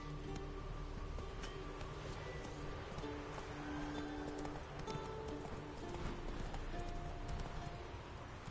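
In The Witcher 3 video game, the horse Roach gallops with steady, quick clip-clopping hoofbeats, rhythmic and fairly faint under a background wash.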